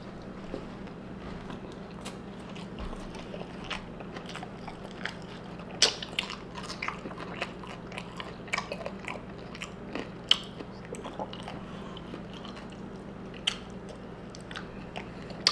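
Subway's new nachos being bitten and chewed close to the mic, with soft scattered crunches and mouth sounds over quiet room tone and no talking.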